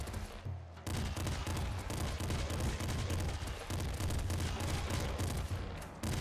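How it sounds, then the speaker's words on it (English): Rapid, dense bursts of golden assault rifle fire in the game Nuclear Throne Ultra Mod, a loud continuous rattle of gunfire nearly filling the whole stretch with no pauses. "It's a good weapon to start with, the golden assault rifle."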